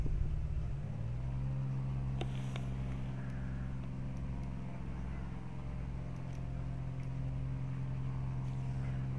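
Plane engine in the Minecraft MTS mod throttles up from idle into a steady, droning, buzzy hum that holds at constant pitch, with a few faint clicks over it.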